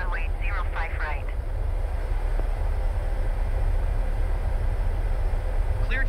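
PMDG 737 airliner in a flight simulator game, a steady loud engine roar at takeoff filling the clip, with brief chirpy tones near the start and end.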